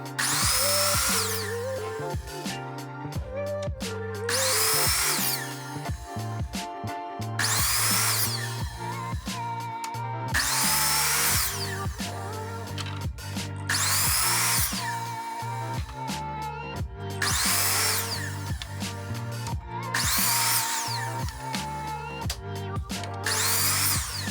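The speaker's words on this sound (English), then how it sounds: "For step 1, we're going to take these over to the chop saw." A chop saw cuts 1x3 wood boards to length in a woodshop, several loud whining bursts recurring every few seconds with brief quieter gaps between cuts and no speech.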